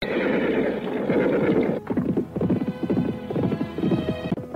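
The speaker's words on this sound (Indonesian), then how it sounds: "Kuda yang ditunggangi Restu Singgi dan Nilam Cahya saling berkejaran di jalan setapak" Horses neigh and whinny loudly at first, then hooves clatter in a galloping clip-clop rhythm as they chase each other along a narrow path lined with thick vegetation.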